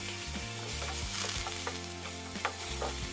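Minced pork being stir-fried in a pan for Thai basil pork, a loud continuous sizzle over a low humming drone, with occasional scrapes of the spatula.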